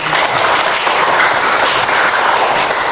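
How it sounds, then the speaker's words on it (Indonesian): Classroom applause for a classmate during a school long-jump physical education lesson, steady dense clapping from a group of students lasting the whole stretch without pause, close and fairly loud. "Tepuk tangan dulu untuk teman."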